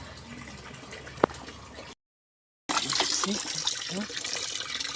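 An Oppo phone is rinsed under running water: a steady, fairly loud splashing hiss of flowing water starts after a short silence and continues to the end.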